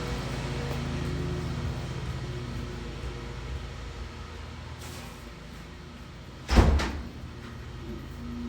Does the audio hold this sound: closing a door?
yes